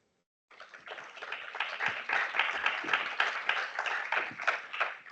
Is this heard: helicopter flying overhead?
no